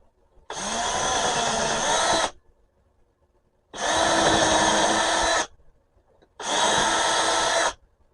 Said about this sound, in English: And now I'll just change drill bit and finish the hole with the